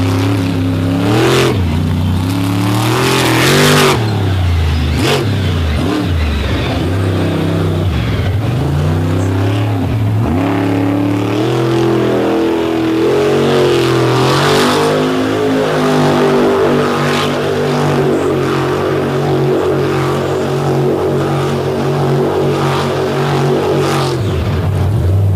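A monster truck at a freestyle event revs hard while spinning on dry, dusty dirt, its engine surging and falling in loud repeated waves without letup.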